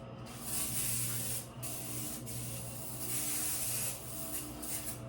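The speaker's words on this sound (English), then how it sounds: "I use the spray away glass cleaner." Spray Away glass cleaner is sprayed onto a refrigerator in a home kitchen: a few long, close, loud hissing bursts with short breaks between them, and no talking.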